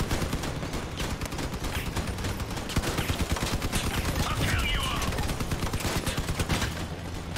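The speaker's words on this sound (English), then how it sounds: "just shoot his gun off" Dense, continuous gunfire from the vehicle combat video game Crossout, with rapid bursts of automatic weapons and overlapping shots forming a loud, steady barrage across the whole stretch, no voices.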